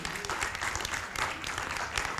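An audience at a pro-family side event to an intergovernmental conference applauds, dense and continuous clapping from a crowd heard at moderate distance, steady throughout.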